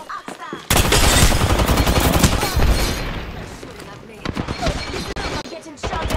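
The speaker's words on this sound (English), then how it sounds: "Getting shot at." Close, dense automatic gunfire rattles in a sustained burst during an Apex Legends firefight, then breaks into scattered shots and impacts with game voices mixed in.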